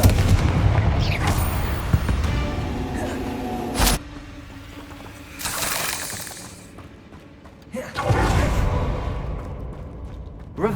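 Confringo fire-spell blasts in Hogwarts Legacy while clearing spider egg sacks, with booming explosive bursts, crackling debris and mechanical rumbles arriving in several waves, and a voice casting spells between them.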